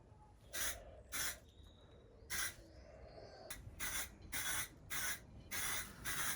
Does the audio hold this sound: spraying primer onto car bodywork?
yes